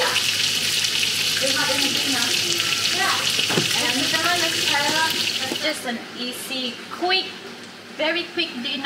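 Fish frying in a pan, a loud steady sizzle close up that eases toward the end, with a person talking over it.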